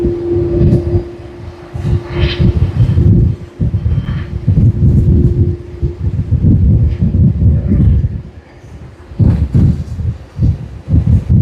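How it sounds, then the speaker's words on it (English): Wind blows at Sydney Airport and buffets the microphone, heavy low rumbling gusts that swell and drop, with a few short lulls between bursts. "today seems to be a windy day all across"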